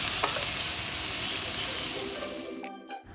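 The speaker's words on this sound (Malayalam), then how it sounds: "അങ്ങനെ ഇച്ചിരി ഉപ്പിട്ട് നമുക്കൊന്ന് നന്നായിട്ട് വഴറ്റിയെടുക്കാം." Onions with salt sautéing in a pan for fish biryani, a steady close hiss of sizzling that fades and cuts off near the end with a brief clatter.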